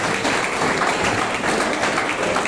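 Audience applause at a public felicitation event, a dense, steady wash of many hands clapping, loud and sustained throughout.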